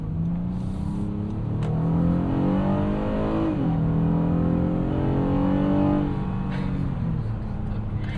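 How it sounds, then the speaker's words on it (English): A Honda Odyssey minivan's V6 VTEC engine accelerates from inside the cabin, a steady loud drone rising in pitch through the gears with a brief dip at a shift, then climbing again and settling. "It makes a good sound too from that V6"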